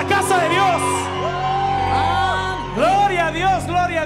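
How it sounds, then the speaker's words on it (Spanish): A Christmas Eve church congregation in a Spanish-language service shouts and whoops loudly together, several overlapping rising and falling cries in waves, close and energetic. "¿Cuántos pueden dar un grito?"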